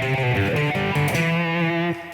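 Distorted electric guitar plays the intro lick of a song, a quick run of galloping notes that ends on one sustained, ringing note. It is loud and close, with no talking.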